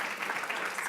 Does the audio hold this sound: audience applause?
yes